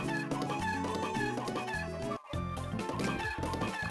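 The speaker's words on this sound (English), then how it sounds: "The chicken sound threw me off." Chicken clucking in a video game, a rapid run of close, loud clucks and squawks that breaks off for a moment and then starts again.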